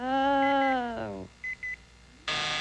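A short electronic tone sounds on a 1989 CBS daytime game show when time runs out, starting as a steady harmonic buzz, followed by two brief high beeps and then a burst of noise.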